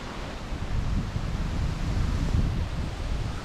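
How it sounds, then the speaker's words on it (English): Strong wind gusts from Hurricane Ian roar against a greenhouse as broad, rushing noise that swells and eases, with heavy buffeting on the microphone and no voices. "we're getting some gusts now"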